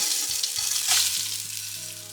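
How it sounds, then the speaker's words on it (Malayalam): Washed rice fries in ghee with a close, bright sizzle, swelling briefly as the grains are tossed, then settling into a steady hiss with light stirring. "ഇതൊന്ന് വറുത്തെടുക്കുകയാണ്."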